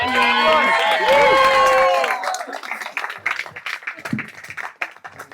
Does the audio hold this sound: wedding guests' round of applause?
yes